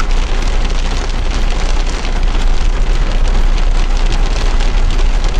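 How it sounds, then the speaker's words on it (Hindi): Heavy rain pours in the mountains near Chakrata, Uttarakhand, a loud, dense and continuous hiss of drops drumming close by with no voices. "बारिश काफी तेज हो गई है दोबारा से।"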